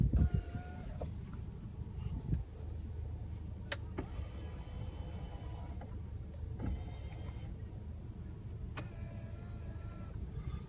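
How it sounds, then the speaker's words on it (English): The power tilting steering wheel of a 2016 Ford Explorer Limited moving, a faint electric motor whir inside the cabin with a few small clicks, quiet and without talk. "Power tilting steering wheel."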